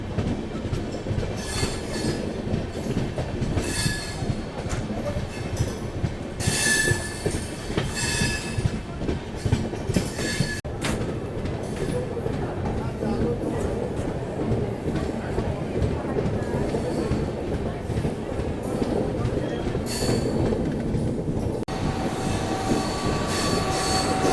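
The Farakka Express overtakes the Sadbhavna Express at Sultanpur Junction with a steady rumble of rolling wheels, rhythmic rail clatter and occasional bursts of squealing, heard from on board alongside the standing train, while someone talks throughout.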